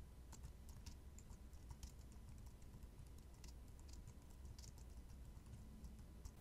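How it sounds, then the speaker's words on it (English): Rapid, quiet typing on a computer keyboard: steady light key clicks throughout, close by, with no talking. "and start typing."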